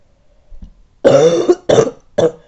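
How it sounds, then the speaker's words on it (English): A person coughs three times in quick succession, close and loud, after a soft breath. "Sorry, I have a bit of a cough."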